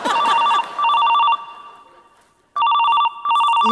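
A mobile phone rings loudly in a comedy sketch, sounding as bursts of bright electronic trilling, broken by a short silent gap and then resuming.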